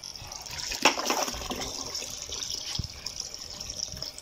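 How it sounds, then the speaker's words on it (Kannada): Water from a pipe filling a bucket for washing clothes, a steady splashing gush with bursts of spatter and trickling, close and fairly quiet, with no talk over it. "ಬಟ್ಟೆ ವಾಶ್ ಮಾಡಲಿಕ್ಕೆ ನೀರು ತುಂಬಿಸ್ತಾ ಇದ್ದಾನೆ,"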